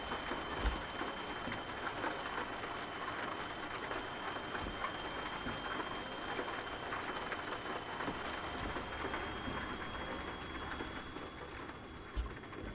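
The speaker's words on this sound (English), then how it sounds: "Listen to that rain." Steady rain pours down on an electric truck in American Truck Simulator, a dense continuous hiss with a few soft thumps of thunder, unbroken and without talking.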